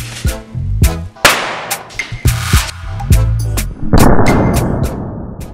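A firecracker taped with electrical tape to the joint of stacked Lego plates gives a series of loud, sharp bangs and cracks in rapid, irregular succession, close by, ending in a brief noisy wash.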